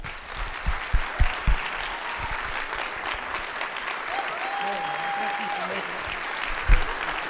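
Church audience applauding to welcome speaker Mark Meckler, a sustained wash of clapping with a few louder nearby claps at the start, steady and fairly loud, a faint voice briefly heard beneath.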